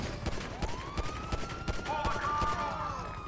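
Gunfire in a Grand Theft Auto V police chase, with rapid repeated shots popping against a wailing police siren and traffic noise.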